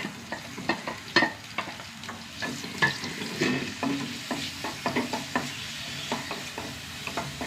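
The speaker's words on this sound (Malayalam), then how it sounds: "ഇതിലേക്ക് ഒരു സവാള കേട്ടോ, നീളത്തിലരിഞ്ഞത്" Sliced onion fries in hot coconut oil while a spoon stirs it in irregular scraping strokes, with a soft continuous sizzle beneath the clinks, close and fairly quiet, no talking.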